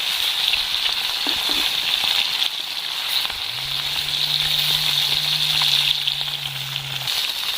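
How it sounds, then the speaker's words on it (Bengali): Rohu fish frying in oil, a constant bright sizzle and crackle close up, with a low steady hum joining partway through. "লাল লাল করে মাছটা আমি ভেজে নেব"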